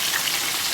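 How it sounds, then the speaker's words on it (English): Food deep fries in a kitchen fryer, a brief steady hiss of crackling oil, close and even with no voices. "we do a lot of frying in here."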